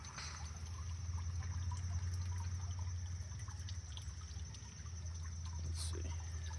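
Water from koi pond jets trickles and splashes steadily in a DIY backyard koi pond, a constant close wash of flow over a low pump-like hum, with no talking.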